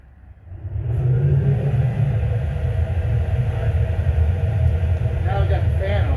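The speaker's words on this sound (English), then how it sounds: "I'm gonna turn the fan on." Forced-air fan blowing on a doorless waste oil heater, switching on with a steady broadband whoosh and low rumble that holds loud and constant after the first second.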